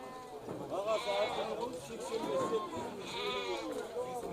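Sheep bleat repeatedly at the Kyzylorda city livestock market: several wavering, nasal calls overlap and recur at close range, with people talking nearby throughout.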